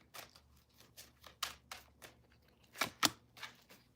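Tarot cards being shuffled by hand make a quiet series of soft, papery flicks and slaps in an irregular rhythm, with two sharper snaps near the end.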